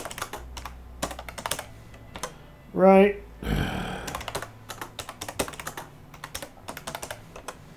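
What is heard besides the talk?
typing a password on a computer keyboard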